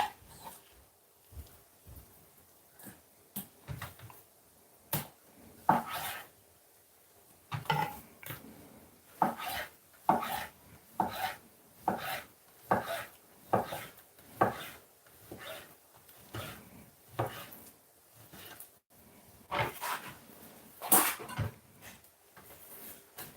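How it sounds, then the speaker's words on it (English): A knife slices chicken into strips on a cutting board, a series of irregular then fairly regular soft thuds and taps, close and moderately loud with quiet gaps, no speech. "So I'm going to kind of cut them in strips."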